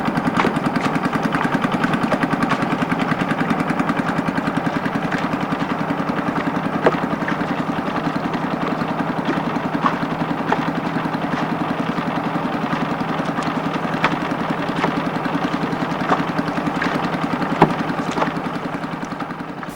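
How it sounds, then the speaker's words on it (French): A motorboat engine drones steadily on a lake in Myanmar, a constant close, mid-pitched chugging hum with no pauses. "Le bateau à moteur me conduit au bout du lac."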